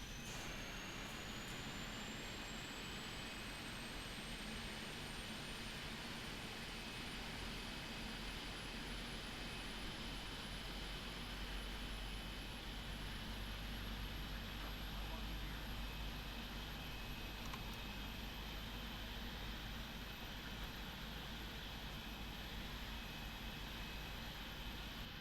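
Engine 1 of a PMDG 777-200ER spools up in the Prepar3D flight simulator, a steady jet roar under a rising whine that climbs slowly and levels off, constant and unbroken throughout with no talking.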